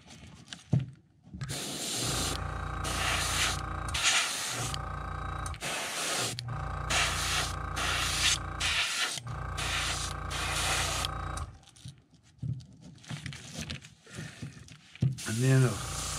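Bursts of spray painting lay white scale marks and a light misting coat on a custom glide bait lure, repeating hissing blasts of a few seconds each with short pauses between them, close and fairly loud.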